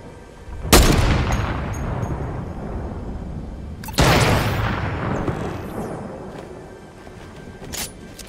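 Gunfire in the video game Fortnite: two loud, sharp shot bursts, each trailing off into a long echoing rumble, then a smaller crack near the end.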